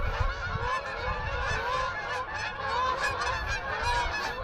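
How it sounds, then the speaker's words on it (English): A flock of Canada geese honking continuously near a pond, many overlapping loud calls, fairly close, with no other sounds. "The pesky geese."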